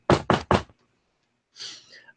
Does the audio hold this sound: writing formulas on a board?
no